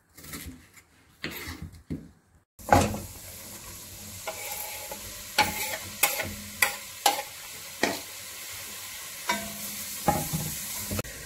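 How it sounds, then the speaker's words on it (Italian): Oil sizzling steadily in a pan with onion gently frying over low heat, punctuated by repeated clicks and scrapes of a utensil stirring, close and moderately loud. "la facciamo stufare a fuoco dolce"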